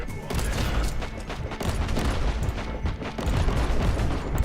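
Dense automatic gunfire volleys in Warhammer 40,000: Inquisitor - Martyr, a sustained, loud barrage of overlapping shots and booms rolling on without pause.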